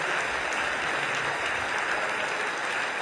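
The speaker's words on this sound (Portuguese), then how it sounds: "Vamos receber o servo de Deus aplaudindo o nome do Senhor Jesus." Church congregation claps steadily to welcome Pastor Roberto Alves de Lucena, a dense, loud wash of applause filling the room without a break and with no voices rising above it.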